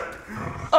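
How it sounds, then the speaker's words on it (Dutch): A dog barks indoors at home, a brief low woof rising into a sharper, louder bark at the very end. "Je hond wordt helemaal gek, blijf maar blaffen."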